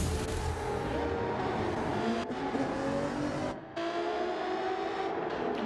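Sim racing cars in a league race roar past with a steady, loud engine drone and rising gear-change whines, briefly cutting out and dropping near the end before resuming.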